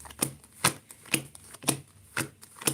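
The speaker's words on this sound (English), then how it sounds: "Let me just shuffle these real good." A deck of cards is shuffled close up in a series of crisp riffling bursts, about six in quick succession, with no talking over them.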